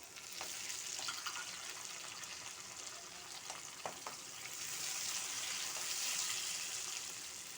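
Curry leaves crackle and sizzle in hot oil for an egg and drumstick curry, a steady close frying hiss with a few sharper pops partway through and the sizzle swelling again toward the end.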